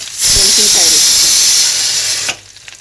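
Mustard seeds and cumin hit hot oil for a potato palya, bursting into a loud hissing sizzle that holds for about two seconds and then cuts off sharply, with a voice briefly heard under the start.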